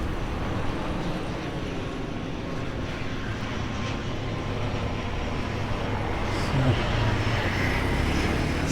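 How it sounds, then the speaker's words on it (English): Citilink passenger airplane rumbling at a distance near an Indonesian airport, a steady broad roar filling the whole stretch with no clear rise or pass. "So, Citilink plane."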